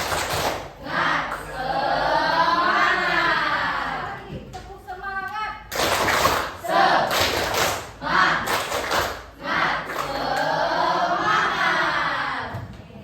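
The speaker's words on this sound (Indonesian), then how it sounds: "Oke, tepuk semangat." A group doing the tepuk semangat spirit clap, sharp rhythmic claps and chanted calls in bursts, a loud pattern that pauses briefly mid-way and then resumes, led live in a classroom-style session.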